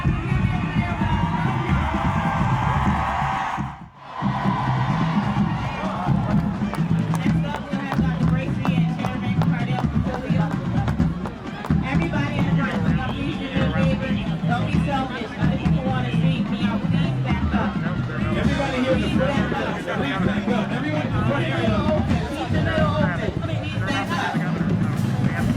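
Crowd at Missy Elliott's key-to-the-city ceremony in Portsmouth, a dense outdoor hubbub of many voices and chatter, steady and moderately loud, with a brief dip early on.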